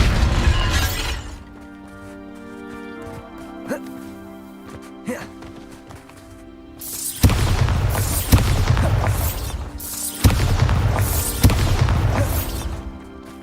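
A Bombarda spell in the video game Hogwarts Legacy sets off a loud shattering explosion with crashing debris, after quieter stretches of sparse cracks and tones, then further booming blasts. Voices are heard alongside.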